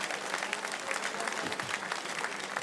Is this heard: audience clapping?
yes